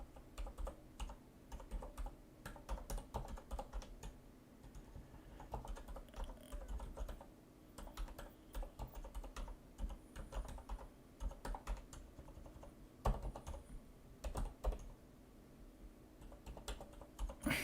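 Typing on a computer keyboard, irregular bursts of soft clicking keystrokes with short pauses between, close and fairly quiet, with no speech.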